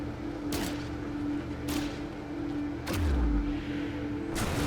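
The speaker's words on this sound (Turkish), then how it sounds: "Yıldırım fırlatıcısı ile kapıları yok edin diyor." Four sharp crackling blasts from a video game weapon fire at roughly even intervals over a steady electronic hum.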